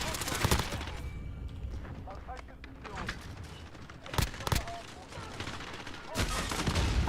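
Gunfire in a first-person shooter video game, sharp cracking shots in clusters at the start, middle and end, loud and close over a busy game background.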